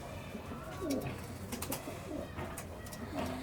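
A racing pigeon coos softly several times at close range, with low rolling calls spread over a few seconds against light background noise.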